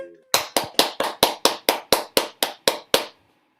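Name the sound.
applause for trumpet player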